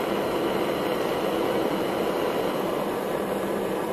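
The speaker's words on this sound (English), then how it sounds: "As the engine speeds up in RPM," A small Stirling engine driving an LED lantern runs with a steady, dense whirring hum that holds at an even loudness throughout, with no voices.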